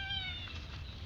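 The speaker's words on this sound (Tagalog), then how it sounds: "buti lang pumunta dito yung pusa" A cat meows a single drawn-out, falling call, fairly close and clear over quiet outdoor background noise.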